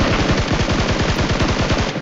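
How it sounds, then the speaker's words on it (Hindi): Rapid automatic gunfire in a battle royale video game, a loud, close, steady burst of evenly spaced shots lasting about two seconds with no talk over it. "लेकिन तभी सामने से फायरिंग होती है"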